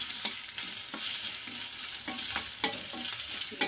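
Chopped onion with curry leaves frying in oil in a kadai, a steady hiss of sizzling broken by occasional scraping stirs and clicks, close and moderately quiet with no talking.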